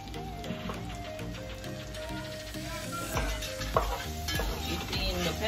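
Butter and pepper sizzle steadily in a pan while being stirred, with scraping utensil and clinking cookware noises over the frying hiss, no speech, while cooking ackee with lobster.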